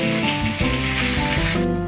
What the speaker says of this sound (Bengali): দেখো মাছ ভাজছে